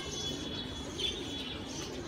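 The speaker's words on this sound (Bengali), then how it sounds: "পাখিগুলো ভালো আছে, কবুতরগুলো ভালো আছে" Pigeons kept in an open coop after rain coo softly at a distance, a low, steady murmur over faint background noise, with one slightly louder call near the middle.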